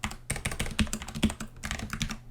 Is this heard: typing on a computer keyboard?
yes